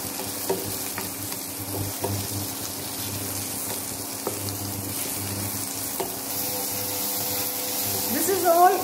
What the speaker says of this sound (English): Now we saute this over medium flame for about 5 to 10 minutes.